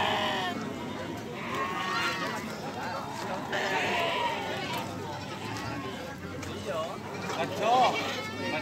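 Goats and sheep bleat repeatedly at a busy livestock market in Pringsewu, their calls rising over a constant crowd murmur and nearby chatter of people talking.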